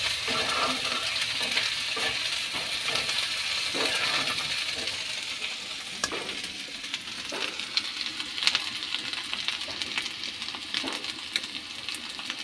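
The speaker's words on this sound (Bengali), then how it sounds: "পেঁয়াজটা লাল করে ভাজা প্রায় হয়ে এসেছে, এর মধ্যে আদা জিরে বাটাটা অ্যাড করে দিলাম" Onions browned in oil sizzle steadily as ginger-cumin paste goes into the pan, with scattered clinks and scraping stirs over a continuous frying hiss.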